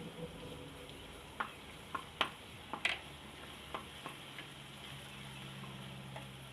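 Sizzling and stirring from a hot pan as ginger goes in for Schezwan chutney, with garlic already cooking over lowered heat; a steady low frying hiss with a few sharp crackles and spoon taps scattered throughout, no talking.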